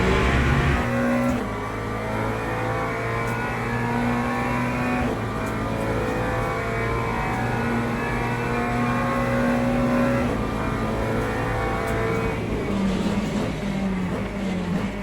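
GT3 race car engines lapping Monza in the Le Mans Ultimate racing game, a continuous loud engine drone with gear changes shifting the pitch, steady throughout with no talking.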